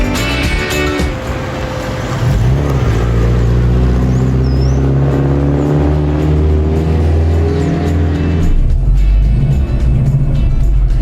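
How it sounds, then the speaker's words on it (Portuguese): A Saab 96 with a 1.5-litre V4 engine runs loudly close by, its deep, evenly paced idle rumble rising into a sustained rev and strong throaty roar partway through. "Esse som do V4 ele é bem compassado, é bacana o som do V4"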